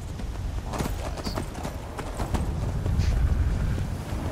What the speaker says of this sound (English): The horse is really fast.